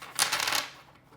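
An oracle deck with plastic cardstock is riffled briefly, a short crisp flutter of cards lasting under a second.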